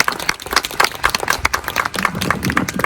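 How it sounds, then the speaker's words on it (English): Audience applause at an Indigenous Peoples' Day gathering, a dense, steady patter of many hands clapping close by for the full three seconds, with no voices over it. "So I want you to give her another big round of applause."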